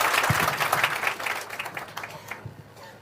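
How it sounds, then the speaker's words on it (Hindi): A crowd applauds with dense, steady clapping that gradually thins and fades toward the end. "एक बार जोरदार तालियों के साथ स्वागत"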